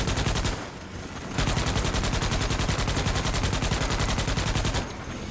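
Rapid sustained automatic fire from a turret in a video game, loud and continuous bursts of evenly spaced shots with short pauses near the start and end.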